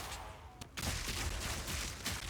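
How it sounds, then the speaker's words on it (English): Explosion in Path of Exile 2 clearing a whole group of enemies: a sudden loud blast after a brief lull, followed by a dense crackling spread of rapid bursts and thuds that fill the rest of the moment. "Kill one, and then the explosion wipes out that whole group."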